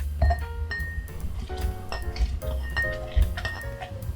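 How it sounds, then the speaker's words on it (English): Strawberries muddled in a glass for a strawberry lemonade whiskey smash, with repeated clinks and knocks of glass and utensil, close and fairly loud, in an irregular rhythm. "You want to put them in a glass and you want to muddle them down."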